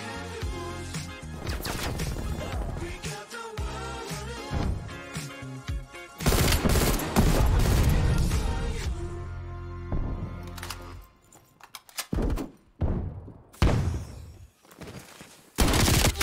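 Gunfire in Call of Duty Cold War on PlayStation 5 crackles in rapid automatic bursts and sharp single shots, loud and close, with brief pauses between volleys.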